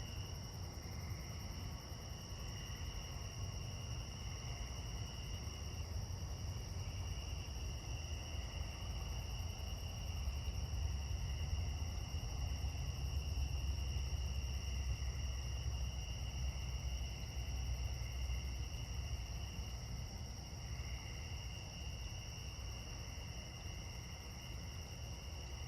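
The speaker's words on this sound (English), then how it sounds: "there are tree frogs, listen. And a bunch of tree crickets too" Tree crickets trill continuously at night with steady high-pitched chirring bands, tree frogs blending into a dense constant chorus in a neighbourhood, even and moderately faint throughout with no voices.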